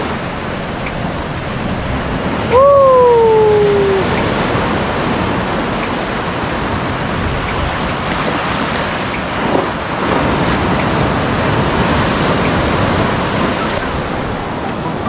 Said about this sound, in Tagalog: galit na galit yung alon